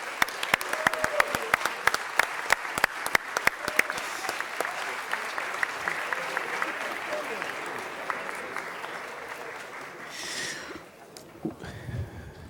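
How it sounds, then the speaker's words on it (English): Council chamber applause for Dorsey High School football players and cheerleaders, with sharp individual claps standing out early over a dense crowd of clapping that gradually fades, followed by a brief shuffle and a few faint sounds. "LAPD, LAUSD, let's give them a round of applause."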